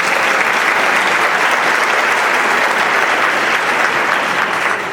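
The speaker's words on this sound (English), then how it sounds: "Please give her a round of applause." A women's club brunch audience applauds a speaker, dense continuous clapping filling the room at steady loudness for the whole stretch, with no voices over it.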